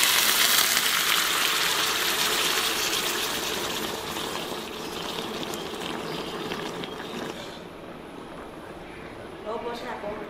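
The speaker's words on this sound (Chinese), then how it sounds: "倒入开水" Boiling water gushes steadily from a large kettle into a cooking pot for a radish and fish soup, loud and near at first and then gradually softening toward the end.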